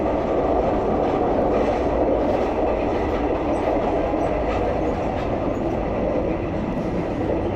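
Thai night sleeper train running on rails from Bangkok to Trang, a steady loud rumble and rattle of carriage and wheels that carries on without a break from start to finish, with no voices.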